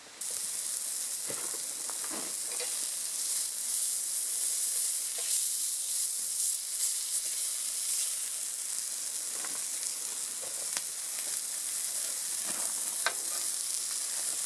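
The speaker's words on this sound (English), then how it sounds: "So I'm going to get the beans on, get them cooking, and we'll get the eggs frying." Steady, dense sizzling of eggs frying in a household pan on an EcoZoom stove, a continuous bright hiss with occasional crackles and pops throughout, no voices.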